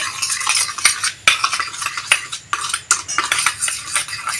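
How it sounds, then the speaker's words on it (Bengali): A spoon works skin of milk cream into sugar in a metal pot, a close run of rhythmic scraping strokes and clinks, about a dozen in quick succession, with no talking. "আমি দুধের সরটাকে আমি ভালো করে এরকম চিনির সঙ্গে মিশিয়ে নেব।"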